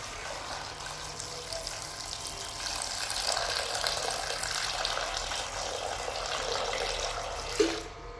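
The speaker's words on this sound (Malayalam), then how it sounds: "ഇനി നമുക്ക് ആവശ്യത്തിന് വെള്ളം ഒഴിക്കാം." Water is poured steadily into a cooking pot holding potato and ash gourd pieces for Kerala sambar, a continuous close splashing rush lasting several seconds before it stops.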